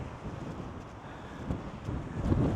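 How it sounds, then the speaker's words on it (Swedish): Strong wind buffets the microphone at the highest point of a coastal trail near the sea in Denmark, a steady rushing roar with gusts swelling louder toward the end, with no voices. "här blåser det jädra som man får hålla i hatten"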